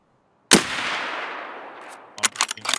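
Gunfire in a video game: one sharp loud shot at the start trailing into a long decaying echo, followed by a quick cluster of shorter bursts near the end.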